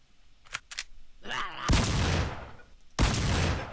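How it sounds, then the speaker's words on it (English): A shotgun fires at zombies in a survival video game, two loud booming blasts about a second apart after some softer clicks and rustling, close and without speech. "let me get my shotgun out for that one"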